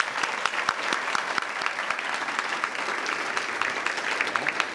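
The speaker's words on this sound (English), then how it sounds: "Round of applause." Audience applause fills a scholars breakfast room, a dense steady patter of many hands clapping at even volume throughout, with no voices over it.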